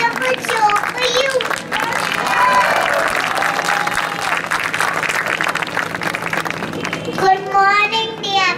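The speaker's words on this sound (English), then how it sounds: "Please give us your encouragement and love with whole lot of clapping and hooting." Audience at a children's music show claps and hoots, a dense, sustained wash of applause with shouts and cheers layered on top, loud and close throughout.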